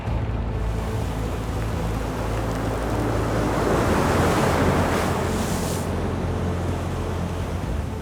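Pacific Ocean waves and hurricane-force wind roar around a yacht during the Clipper 2017-18 round-the-world race, a loud, steady, unbroken wash of surf and gusting wind with no voices.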